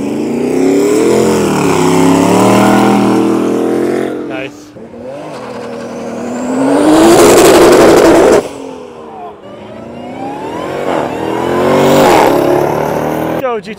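A Honda Civic revs hard at a Cars & Coffee meet, its engine climbing loud and close in several swelling pulls, with excited voices talking over and between the bursts.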